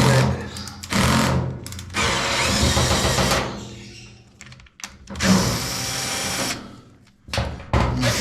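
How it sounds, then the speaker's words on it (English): Screws come out of the cover of a Maytag Bravos front-load dryer as a power driver spins in loud bursts, several whirring runs broken by short pauses and clicks, with no talk. "we're just going to go around the horn and take off all of these screws"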